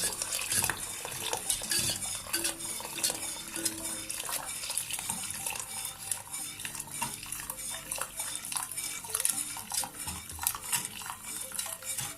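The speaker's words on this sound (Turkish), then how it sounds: "kaynayana kadar bu şekilde karıştıralım." A spoon stirs kaşık börek soup in a pot, producing repeated close metallic clinks and scrapes over a sloshing liquid sound, with no talk.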